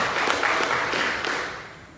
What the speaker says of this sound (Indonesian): Kita beri tepuk tangan dulu buat Tuhan kita yang hebat.